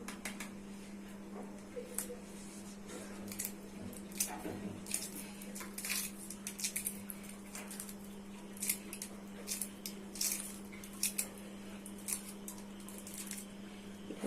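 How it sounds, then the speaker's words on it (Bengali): Shells being peeled off boiled eggs, with faint, close crackles and small clicks scattered irregularly over a low steady hum. "ডিমগুলো ছাড়িয়ে নিচ্ছি"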